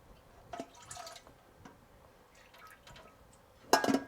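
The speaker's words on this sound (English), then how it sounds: "Pour in the whiskey." Oak-aged whiskey is poured into a fermenter of homebrewed wheat wine, giving faint drips and trickles that end in a short, louder splash of liquid near the finish.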